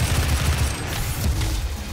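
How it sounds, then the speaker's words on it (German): A heavy assault rifle in DOOM (2016) fires as a sustained, loud roar of rapid shots layered with booming low-end impacts, continuing over two seconds without talk. "das schwere Sturmgewehr ist schon richtig krass"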